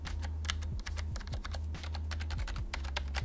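Steady, quick typing on a quiet Razer Cynosa V2 membrane keyboard, a close run of soft, muffled key presses with no talking.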